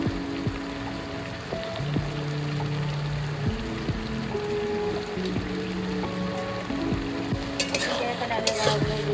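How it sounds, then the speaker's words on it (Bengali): Fried lentil dumplings (dal bori) dropped into a pan with ginger and cucumber, giving a steady close sizzle with a few soft scrapes and clinks, no talking. "এবার এর মধ্যে আমি ভেজে রাখা ডালের বড়িগুলো দিয়ে দেবো"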